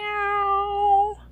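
A person imitates a cat's meow: a single drawn-out, clear, tonal mew held for about a second and then cut off, loud and close with no other voices.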